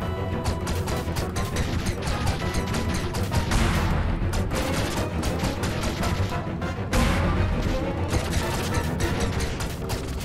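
Dense, continuous rapid booming cannon fire in the game Owlboy, loud and relentless with crashing impacts, no pauses across the whole stretch.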